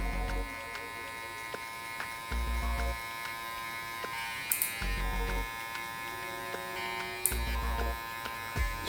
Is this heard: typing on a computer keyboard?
no